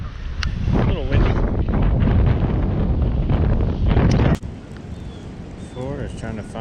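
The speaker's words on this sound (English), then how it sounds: "A little windy." Gusty wind buffets the microphone on a lake during early-spring bass fishing under a cold front, a loud rumbling roar that drops abruptly partway through, with someone speaking over it.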